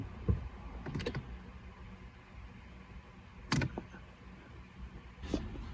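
An ignition key turns in a 2007 Jeep Grand Cherokee 3.7 with a no-start fault, giving a few quiet, sharp clicks and rattles spaced over several seconds against a faint background hum and no engine starting.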